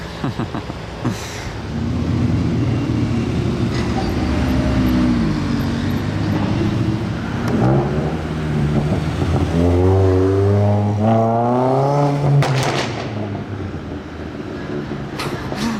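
A passing Abarth car revs hard outside the Bonhams Monaco 2021 auction, its engine note climbing and falling in loud sweeping bursts over steady street and traffic noise.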